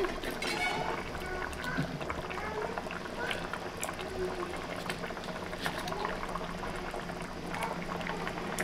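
Raw mango pieces go into a simmering fish curry, a soft steady bubbling and gentle liquid stirring, quiet and close, with faint talk under it.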